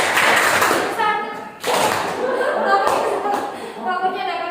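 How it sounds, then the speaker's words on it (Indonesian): An audience of teachers at a positive-culture sharing forum claps in counted patterns, bursts of hand claps separated by short pauses, with a leader's voice and some chuckling mixed in. "Kalau saya bilang tepuk satu, Bapak Ibu tepuk satu ya."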